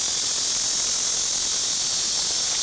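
Cicadas in a tree in Beijing, a steady high-pitched buzzing hiss that stays continuous and fairly loud throughout with no pauses.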